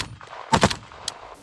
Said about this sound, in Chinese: 乌克兰反攻部队在枪炮声中快跑前进